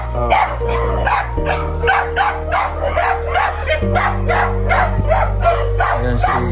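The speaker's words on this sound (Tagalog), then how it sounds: "Maingay yung aso." A dog barks repeatedly in a quick, steady series of loud close yaps, heard over music with a strong bass line.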